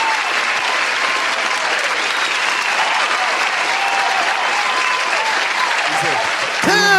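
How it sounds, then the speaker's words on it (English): Audience applause with dense hand clapping from a crowd at a sermon, loud and steady throughout, ending with a brief shout. "you got that hand clap thing for me?"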